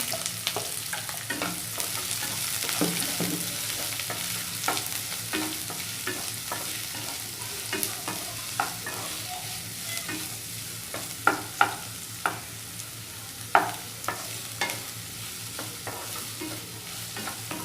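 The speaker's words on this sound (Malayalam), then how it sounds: "നമുക്കിനി ഇതിലേക്ക് സവാള, അതേപോലെ തന്നെ നമ്മൾ ചെറുതായിട്ട് കട്ട് ചെയ്ത് വെച്ചിട്ടുള്ള സവാള, അതേപോലെ തന്നെ പച്ചമുളക് ചേർത്ത് കൊടുക്കാം." Chopped onions and green chillies sizzle steadily in a pan for an egg curry while a spoon stirs them, repeated scraping clicks over a constant close frying hiss, with no talking.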